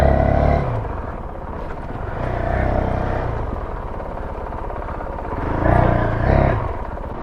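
A Honda CRF450L dirt bike rides off road, its engine droning steadily with a couple of louder surges as the throttle opens, close and continuous with a rider talking over it.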